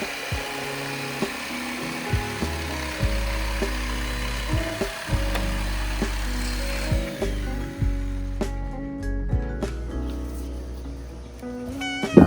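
A saw cuts arched shapes into teak shelves for a shower table, with repeated rasping strokes and small knocks in an uneven rhythm, close and fairly quiet.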